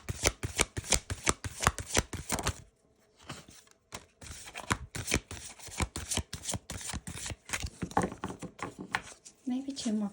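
Tarot cards are shuffled by hand in quick crisp riffling bursts, close up, with a short pause midway before the flicking and slapping resume; a voice speaks intermittently over the shuffling.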